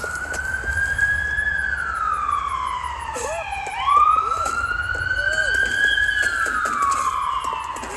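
An ambulance siren in a video game wails in long rising and falling sweeps as the vehicle drives past, loud and close, with road rumble beneath.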